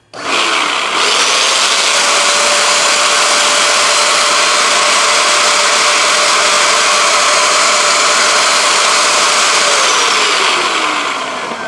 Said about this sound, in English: the vacuum from the Bissell is just going to suck it back, suck that clean water back through the hose and rinse it out